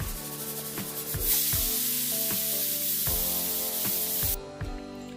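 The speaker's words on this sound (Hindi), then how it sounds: "अब यहाँ पर कुकर में सीटियाँ भी आ चुकी हैं।" A pressure cooker with carrots on a low gas flame vents a loud, hissing steam whistle that swells and holds, then cuts off abruptly near the end, over faint rhythmic rattling of the weight on the lid.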